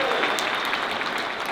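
An audience at a comedy show at the Civic Center in Des Moines, Iowa, breaks into a short burst of dense applause, a brief wash of many hands clapping together.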